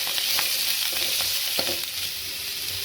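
Finely chopped medium onion frying in a pan with chillies, a steady close sizzle with occasional soft scrapes of stirring, no voices.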